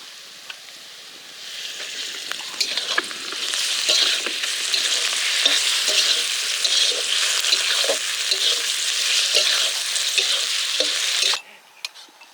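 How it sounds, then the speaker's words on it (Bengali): Mussels fry in a pan during open-air riverside cooking, a steady, close sizzle with stirring clatter that holds for about eleven seconds and then cuts off abruptly. "এবারে ঝিনুক মাছটা দিয়ে দেবো"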